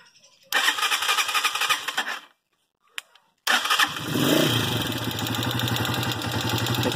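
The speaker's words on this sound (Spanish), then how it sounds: "Así que vamos a encender la moto." A motorcycle fitted with a racing CDI ignition is started up after two brief bursts of cranking, then catches and settles into a steady, loud, close idle.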